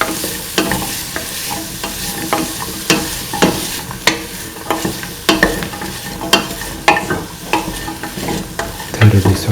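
Bottle gourd pieces are sautéed and stirred in a hot pan, with a loud close sizzle and repeated scraping strokes of the spoon in an irregular rhythm and no voices.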